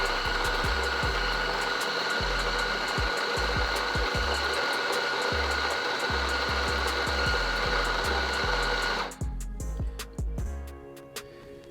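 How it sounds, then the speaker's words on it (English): A SanRemo AllGround home coffee grinder grinds coffee beans into a dosing cup, a steady loud motor whir with rattling bean crunch that cuts off abruptly near the end, leaving faint clicks and quiet room sound. "If you're grinding into a dosing cup,"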